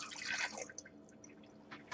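Water poured to dissolve 51 grams of sodium nitrite in about 100 milliliters, a faint, close trickling splash that tapers into scattered drips.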